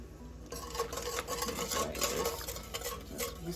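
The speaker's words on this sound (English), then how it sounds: "Just whisk it around." A whisk stirring plantain porridge in a pot, with close, continuous scraping and swishing and soft clinks against the pot, no talk.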